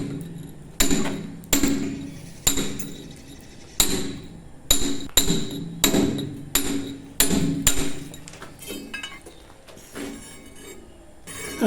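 A mallet strikes a stone carving point chisel, about a dozen sharp, ringing metallic blows at an uneven hand pace, close and clear, with quieter tapping at the end.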